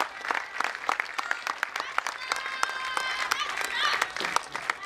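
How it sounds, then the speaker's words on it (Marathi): An audience applauds a world-record feat with dense, sustained clapping from a crowd, steady and fairly loud throughout, while a voice speaks over it. "अचाट पराक्रमासाठी जरा जोरदार टाळ्या होऊन जाऊ देत"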